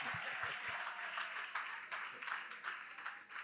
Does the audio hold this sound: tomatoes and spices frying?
no